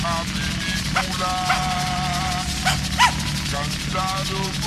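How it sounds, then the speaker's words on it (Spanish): A small dog yips and barks in short high bursts over loud music with a voice, several sharp barks scattered across the stretch, one louder near the end. "Pinche perrito, se pone el pelo con el agua"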